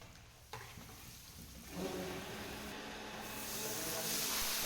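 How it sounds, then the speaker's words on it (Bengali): Whole garam masala frying in hot oil with browned sugar, for a vegetable biryani, gives a steady hiss and sizzle that swells louder after an early clatter. The frying is close, and no one speaks. "চিনিটাকে একটু লাল লাল হয়ে পুড়ে পুড়ে আসলে তারপরে আমরা গোটা কিছু গরম মশলা ওতে অ্যাড করব"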